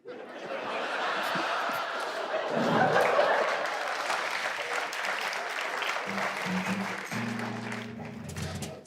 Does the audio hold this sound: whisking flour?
no